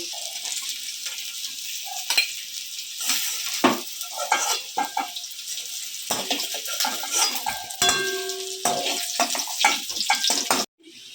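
New baby potatoes fry in oil in a pan with a bright, crackling sizzle, broken up by scraping and clinking of a spatula or utensil against the pan, with no talking.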